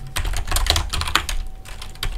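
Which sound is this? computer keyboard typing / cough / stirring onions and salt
computer keyboard typing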